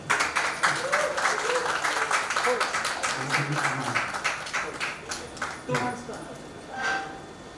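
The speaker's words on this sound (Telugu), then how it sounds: "చప్పట్లు కొట్టాలి." Guests clap at a wedding ceremony for Ronald Vicky and Esther, a rippling run of applause that thins out toward the end, with voices talking over it.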